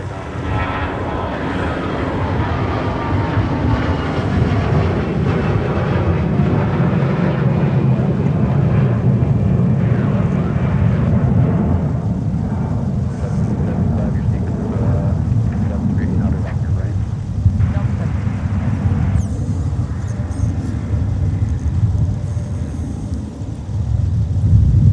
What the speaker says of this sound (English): Here's our departure to Miami, kicking up some snow on its way off of runway 30 left.